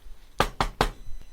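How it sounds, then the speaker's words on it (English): Three sharp, evenly spaced knocks land close to the microphone in quick succession, followed by a fainter fourth tap. "Let's do the knock."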